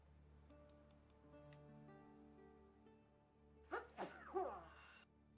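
A person sneezes nearby, a quick cluster of two or three sharp bursts near the end, following quiet ticking and a soft humming background.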